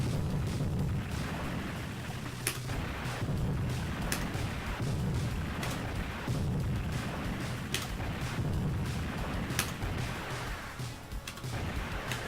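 Rocket launcher fire in the game N.A.R.C., sharp blasts repeating every second or two over a steady rumbling background, close and without speech.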